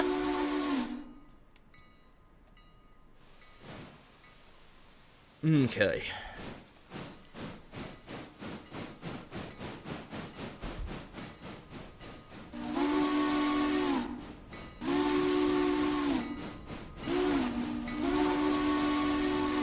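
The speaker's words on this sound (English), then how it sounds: "Now you can blow your whistle, number 11." A steam locomotive whistle, engine number 11, sounds in long loud blasts with a separate clipped toot near the end. Between the blasts come chuffing and hissing, and there is brief talk.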